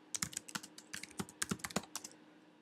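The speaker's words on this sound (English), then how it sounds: "So now I type my program." Fingers typing a program on a computer keyboard, a quick irregular run of crisp key clicks in short bursts, close and fairly quiet, with no voices.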